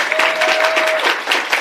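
A conference audience bursts into loud, dense clapping for an executive director, a brief close burst of applause filling the hall, with a steady tone sounding briefly underneath.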